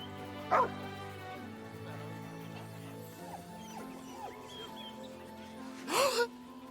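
Scratch, a dog in Baldur's Gate 3, gives two sharp close barks, one near the start and one louder near the end, over a steady hum of game music with no talk.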